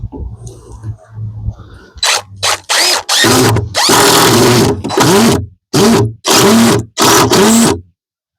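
A power drill driving screws into a window header for a load-bearing wall in an 8x8 tiny house build: several short, loud whirring bursts separated by silences, after a quieter start.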